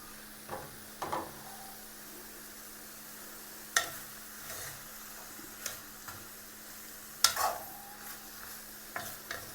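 Kerala-style chicken stew with potatoes, carrots and curry leaves is stirred in a pot, a faint low simmer broken by sparse, irregular sharp scrapes and clinks of a spoon, close and without talk.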